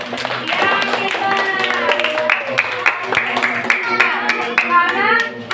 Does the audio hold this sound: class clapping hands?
yes